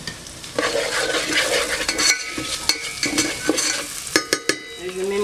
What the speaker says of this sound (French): Et je grille mon riz.